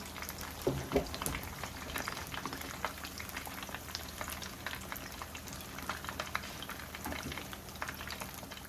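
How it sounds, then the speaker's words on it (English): Steady crackling and popping of chicken pieces frying in hot oil for sweet and sour chicken, continuous and close, with scattered louder spits and no voices. "I finished frying all the pieces of chicken"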